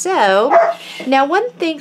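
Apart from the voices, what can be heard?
dogs barking while playing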